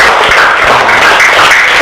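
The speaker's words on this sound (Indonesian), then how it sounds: "Tepuk tangan untuk kalian semua." Students in a classroom give a round of applause, dense and continuous clapping loud and close throughout, with no speech over it.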